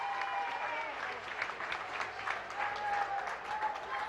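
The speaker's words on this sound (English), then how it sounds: "a round of applause for a great female" Crowd applause at a women's 135-pound championship MMA fight, a steady wash of clapping and cheering from a large arena audience filling the clip, with faint talk underneath.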